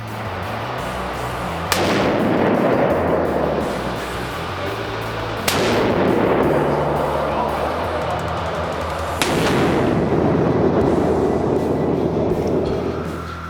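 AR-10 rifle fired outdoors while sighting in at 100 yards, three loud separate shots a few seconds apart, each followed by a long rolling echo.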